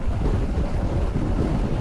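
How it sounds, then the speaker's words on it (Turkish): Strong wind buffeting the rider of a Suzuki V-Strom 800 DE motorcycle on an open road, a continuous low, heavy roar with no pauses. "bak bir yavaşlayalım ya çok rüzgar var"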